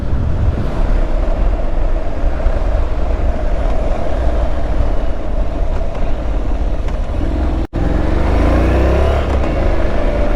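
A Honda NC700 motorcycle on a test ride, its engine droning loudly and steadily with constant road and wind roar, a brief dropout near the end before the engine note rises again.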